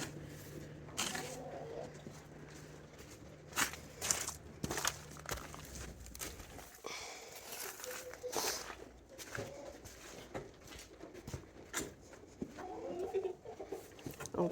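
Chickens cluck softly in a barn amid faint shuffling and footsteps, the quiet clucks scattered and close, over a low background hum that stops partway through.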